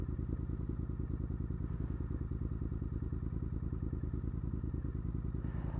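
A Triumph Scrambler 900 motorcycle engine thuds in a fast, even pulse while riding, a steady throbbing beat over rushing wind.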